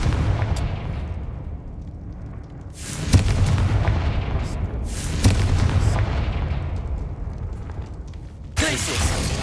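A Confringo blasting spell in Hogwarts Legacy sets off several booming explosions. Loud bursts land about every two to three seconds over a rumbling game background.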